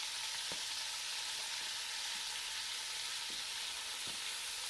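Potato and cauliflower pieces fry with cumin in a pan for aloo gobhi, making a constant even sizzle with a few faint stirring taps and no talk.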